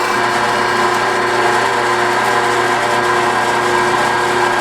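A lathe's power feed drives a drill bit steadily into a workpiece to bore a center hole for a homemade off-road trailer hitch, giving a continuous, even mechanical whir and hum with no talking.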